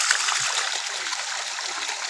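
Water gushes steadily from a borewell, a close, continuous rushing splash with no break over its two seconds.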